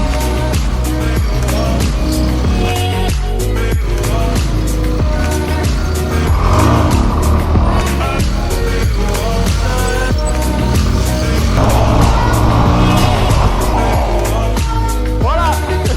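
A motorbike with no front brake is ridden in Mongolia, its engine droning loud and steady throughout with rising and falling revs and gear-shift whines, close to the microphone.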